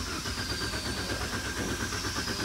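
A car starter motor cranks steadily on a stalled Daihatsu Sigra or Toyota Calya while the engine fails to catch, giving a continuous rhythmic churning hum close by with no voices.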